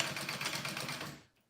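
A sewing machine stitches a fabric sling lining at a quarter-inch seam, a rapid, even mechanical whir close by that runs for about a second before stopping abruptly.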